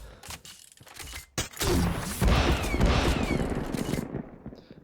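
Legendary Thumper item for the Gunzo skin in a video game setting off a rapid string of small firecracker pops, a dense crackling burst that runs for several seconds with no talk over it.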